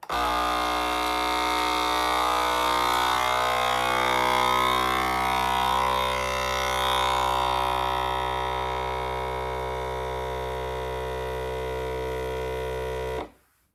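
Steady mechanical drone of a vacuum sealer pumping air out of a bag of meat, with a strong low hum and shifting whine, running continuously for several seconds before cutting off abruptly.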